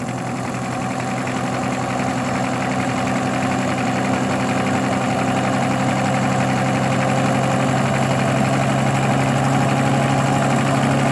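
A Sun distributor test machine, running an Olds 4-4-2 W-30 distributor, hums steadily with a loud, even mechanical drone and a faint whine, constant for the whole stretch with no speech.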